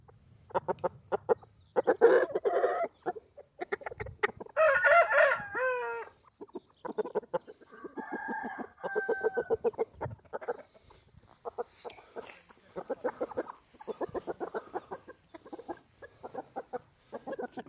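A game cock rooster, a Barback cock bred from Prince of Orange stock, crows and clucks loudly up close, with repeated harsh calls and several drawn-out crows spread through the stretch.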